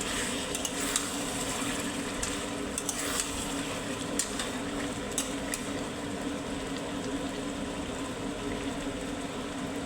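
Mutton frying in a pan over a raised gas flame, stirred now and then with a spatula: a steady close sizzle runs throughout, broken by occasional metallic scrapes and clinks.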